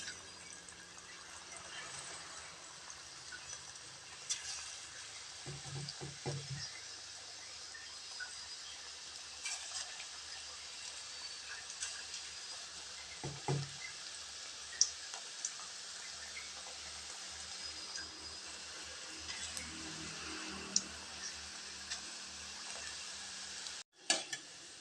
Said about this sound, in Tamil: பொரிச்சு எடுக்கிறதுக்கு எண்ணெய் ஊற்றிருக்கிறேங்க